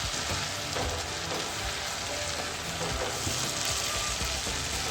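Spices frying over a high flame for a ridge gourd (turai) curry give off a steady, dense sizzle with no pauses and no one talking.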